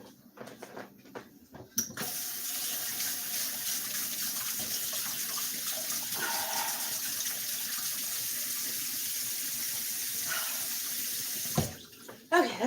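A tap runs steadily into a sink as someone washes their face and hands, a continuous close splashing stream that lasts about ten seconds, with brief handling noises before and after and no talking.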